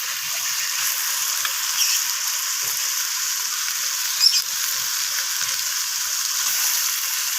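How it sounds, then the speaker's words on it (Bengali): Food sizzling steadily in a hot pan, a continuous bright frying hiss with occasional small pops and stirring sounds, close and fairly loud. "মাংসের চিকেনগুলো আমি পেঁয়াজ আর টমেটোর সাথে এইভাবে নাড়াচাড়া করে একটু ভাজা ভাজা করে নিচ্ছি"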